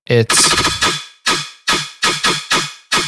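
Synthesized gun sound effects built in Serum with phase modulation, loud sharp shots, first a fast burst and then six evenly spaced single blasts, each with a short fading tail, with no talking.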